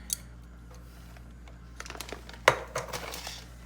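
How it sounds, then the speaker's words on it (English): Chocolate chips poured from a measuring cup into muffin batter, heard as a quick patter of small taps and clinks followed by a sharper clink, close and fairly quiet in a still kitchen. "So a quarter cup of Lily's goes right into the mixture."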